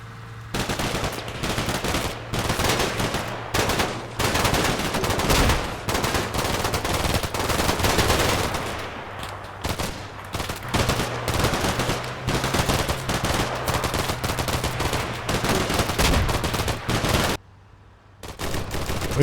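Gunfire in the video game Combat Mission Shock Force 2, with dense, continuous machine-gun bursts and rattling shots at an urban hospital building. The firing is loud and almost unbroken, with one brief lull near the end.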